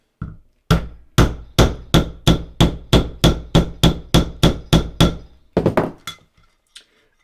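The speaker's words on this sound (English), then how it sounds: "using our hammer, give that a whack" A hammer strikes a metal snap setter, fixing a snap fastener on a leather key strap, about fifteen times in a quick, steady rhythm, each blow a sharp ringing knock, followed by a few lighter taps.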